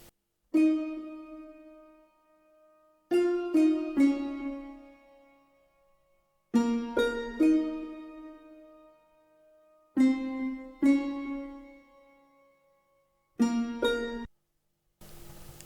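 Two layered harps, one from SRX Orchestra, play plucked notes in short clusters, a few separated phrases with long decaying tails, soft and spacious with no talking.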